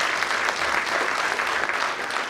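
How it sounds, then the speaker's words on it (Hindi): Audience clapping at a team introduction, a dense, continuous burst of applause from a crowd, steady and fairly loud throughout the short stretch with no voices. "पर इसके लिए एक बार ताली होनी चाहिए।"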